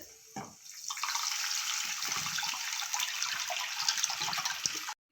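Tamarind-tomato liquid, mixed with salt, turmeric and asafoetida, is poured into a pan for rasam: a steady, close splashing stream that runs for several seconds and stops abruptly.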